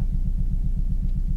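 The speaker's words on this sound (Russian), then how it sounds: "то есть двигатель неровно работает" A Toyota car engine idles unevenly with a slight knock, a steady low rumble pulsing in a regular beat, close and continuous with no talk.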